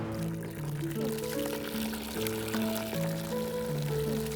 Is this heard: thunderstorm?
no